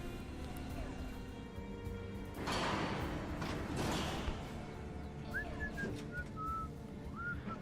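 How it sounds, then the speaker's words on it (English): Whistling in a first-person shooter video game: several short, rising whistle tones sound in quick succession near the end, following a loud rushing burst, over steady in-game ambience. "That whistling freaked me out."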